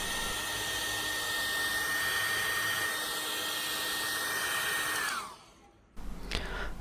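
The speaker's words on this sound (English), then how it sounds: "Take any hairdryer and heat the surface of the screen for 1 or 2 minutes." A hair dryer heating an iPhone X screen for repair blows with a steady, loud whir for about five seconds, then winds down and cuts off, followed by faint handling noise.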